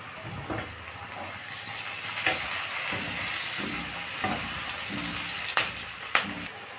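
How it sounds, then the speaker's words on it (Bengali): Chopped onions and tomatoes sizzle in a pan with spices for chicken kosha curry, a close, steady frying hiss broken by periodic stirring scrapes and a few sharp spatula knocks. "পেঁয়াজটাকে লাল করে ভেজে দেব। এর মধ্যে দিয়ে দেবো আমি টমেটো কুচি,"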